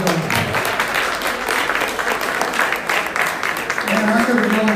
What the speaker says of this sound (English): let's give them a round of applause for doing such a great job.